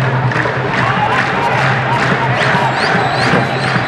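A packed football stadium crowd roars and cheers continuously through an Egypt vs Senegal youth Arab Cup semi-final, a dense, loud wall of voices with occasional whistles and shouts, no single voice standing out.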